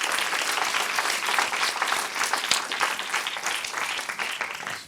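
A conference audience gives a panel a sustained round of applause, a dense wash of many hands clapping that holds steady and then tapers off at the end.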